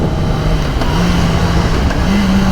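A 2021 Kawasaki ZX-10 motorcycle accelerates hard in first gear, its engine note climbing in a loud, close, rising roar with a brief pitch step.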